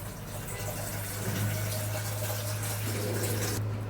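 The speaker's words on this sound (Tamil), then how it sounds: "இதுக்கு தண்ணி ஊற்றிக்கலாம்" Water runs steadily for a few seconds into a pot, a continuous close gushing pour with a low hum beneath it.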